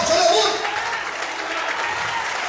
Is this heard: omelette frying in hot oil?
no